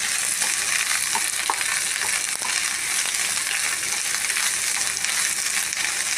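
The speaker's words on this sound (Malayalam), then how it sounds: "2-3 പച്ചമുളക്, പിന്നെ ചുവന്നുള്ളി 10 പൊറ്റ് ചുവന്നുള്ളി. ഒക്കെ നന്നായിട്ട് ഫ്രൈ ആവണം." Green chillies and shallots frying in a pan for a mango chammanthi, a dense, even sizzle heard up close, with occasional faint stirring taps and no voices.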